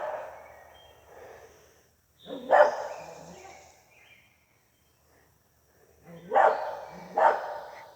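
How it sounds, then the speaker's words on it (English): Dogs barking outdoors at a deer that chases them, with a few loud, sharp barks in separate bursts and quieter rustling and faint background noise between them. "The dogs are barking at this deer and she's chasing them away."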